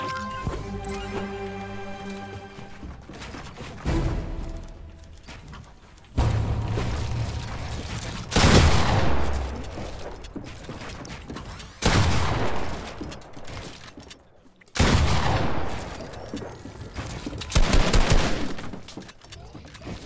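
Rapid bursts of gunfire in a Fortnite 1v1 boxfight, loud and close, coming in several clustered volleys with sharp impacts between them, with no talk over it.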